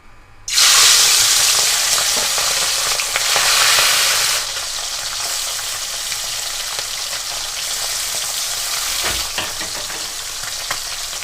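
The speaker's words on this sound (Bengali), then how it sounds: "এবার আমি ট্যাংরা মাছগুলো এক এক করে সব ভেজে নেবো" Tengra fish frying in hot white oil for a spicy fish jhal, with a loud steady sizzle that bursts in sharply when the fish goes into the pan and then settles into continuous close crackling, with no talk.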